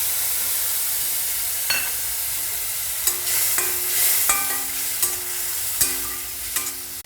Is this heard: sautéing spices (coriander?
yes